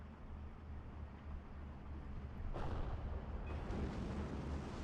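A tank destroying a Bren carrier in the World War II strategy game Steel Division 2: a steady rumbling combat din, then a sudden loud explosive burst with a lingering roar of fire and debris.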